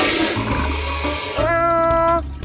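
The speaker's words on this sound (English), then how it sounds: "Flush the toilet." A household toilet flushes with a steady rushing of water, followed by a rising tonal whine as the tank refills, close by and fairly loud with no speech.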